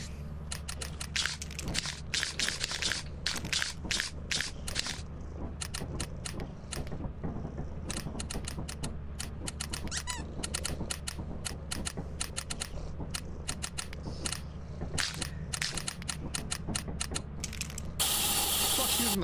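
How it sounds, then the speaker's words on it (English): Rapid mechanical clacking of a typewriter in the video game Lethal Company, dense irregular keystrokes and ratcheting clicks running continuously and fairly loud over a low droning background. "The typewriter, Alan Wake."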